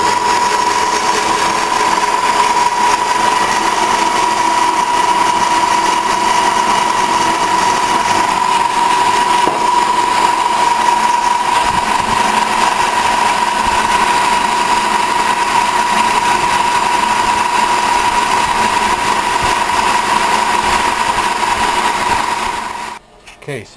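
Lathe taking a boring cut on a payloader arm under repair, a steady loud machining whine with a sustained tone holding evenly for over twenty seconds before stopping abruptly.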